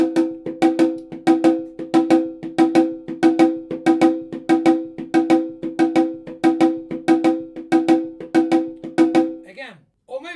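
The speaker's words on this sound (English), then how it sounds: "a chico rhythm that is a traditional rhythm from candombe from Uruguay that sounds like this" Uruguayan candombe chico rhythm played by hand on a drum: a steady, evenly spaced run of sharp, ringing strokes in a tight repeating pattern, close and clear, stopping abruptly near the end.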